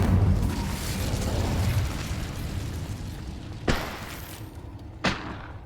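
An Incendio fire spell blasting in a Hogwarts video game: a loud rushing burst fading over a few seconds, then two sharp, distinct impact pops a little over a second apart.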